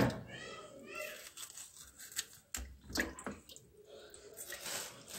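Running water splashes while small frozen tuna fish are washed and cleaned in a kitchen, with crinkling, tearing handling noises and uneven splashes as someone talks over the work.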